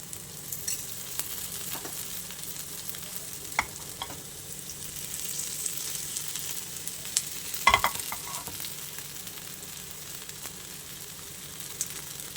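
Coriander vadi fries in a little oil in a pan, giving a soft, steady sizzle throughout, with a few sharp clinks and scrapes from stirring, the loudest near the end.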